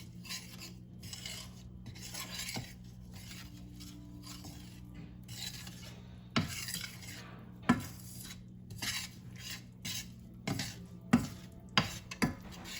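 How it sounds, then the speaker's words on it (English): A utensil clinks and scrapes against a bowl while flour is stirred in for a biscuit batter, giving irregular close taps and knocks over a low steady hum from a pan heating up on the stove. "I'm going to just put a little of the flour in here and get it started mixing."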